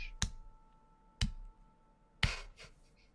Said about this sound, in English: then there's a soft tapping? Clapping. Clap. Slow clap.